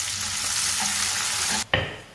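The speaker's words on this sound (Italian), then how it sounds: "Una volta rosolata la salsiccia, aggiungiamo dei pomodorini tagliati a cubetti e lasciamo cuocere per 5 minuti." Browned sausage cooking with diced cherry tomatoes in a pan, a dense steady sizzle with a brief stirring scrape near the end, no voices.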